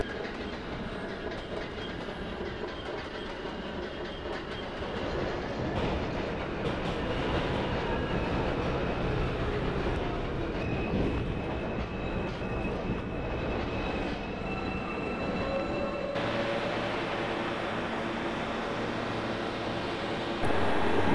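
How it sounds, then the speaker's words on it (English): A subway train in the video game Trainz 12 rolls steadily along the track, its loud continuous rumble carrying rhythmic wheel clicks and a faint motor whine, with a brief tonal shift near the end. "This is a Gateway Drive Mall bound P local train."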